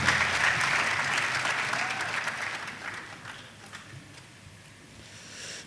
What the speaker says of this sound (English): Applause for the Vice Chancellor and Chancellor.